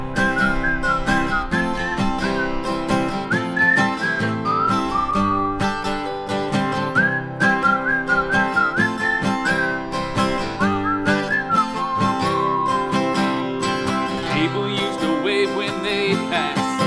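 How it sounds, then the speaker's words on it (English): People whistle a bright, repeating melody at the start of a song over a full band backing, loud and sustained throughout. "Oh, we're whistling at the beginning."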